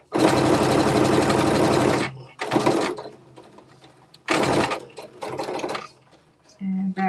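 A domestic sewing machine stitches fabric for shorts in loud, close bursts: a long two-second run, a brief burst, a pause with faint handling sounds, then two more runs and a short final spurt.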